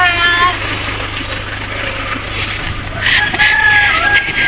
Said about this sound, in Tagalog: Kuya manok na naman!